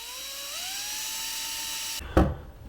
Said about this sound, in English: I have a 3/32 drill bit that I'll use to drill a pilot hole in